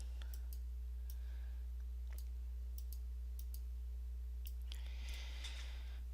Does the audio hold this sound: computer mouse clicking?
yes